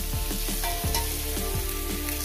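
Mashed eggplant frying in a hot pan, a steady close sizzle broken by repeated scraping stirs at an uneven rhythm.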